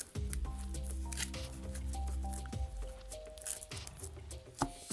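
A deck of Yu-Gi-Oh trading cards being shuffled by hand, close-up with quick riffling and soft flicking bursts, alongside a few sustained tones in the background.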